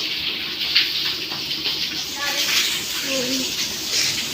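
Water splashing and running as a woman bathes outdoors in hot weather, a steady near wash of splashes with a few faint voices in the background.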